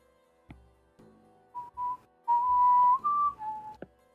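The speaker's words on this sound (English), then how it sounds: "The whistling is not enough to activate my noise gate." A person whistles a short tune of several clear, sustained notes that rise and fall, preceded by a few soft clicks and knocks, alone and close by with no talking.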